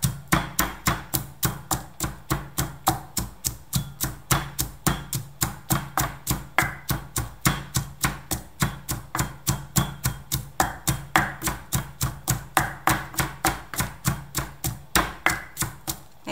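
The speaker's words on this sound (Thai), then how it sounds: "โขลกไปเรื่อยๆนะคะจนกว่ากระเทียมจะละเอียดนะคะ" Garlic pounded in a mortar with steady, evenly spaced thuds, roughly three per second, continuing loud and close for the whole stretch with no voices.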